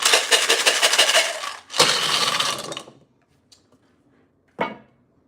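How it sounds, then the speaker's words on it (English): Dice rattled hard in a cup or hand: two long bursts of dense clattering, close and loud, followed by a faint tick and a short final knock as they land. "I'm going to shake the dice."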